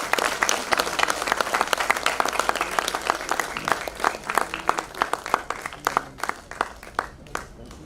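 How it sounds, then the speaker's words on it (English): An audience gives a steady round of applause during a memento and shawl presentation to a university rector at a trauma course and mass casualty workshop. Dense, close clapping continues for the whole stretch and thins slightly toward the end. "Please give a big round of applause."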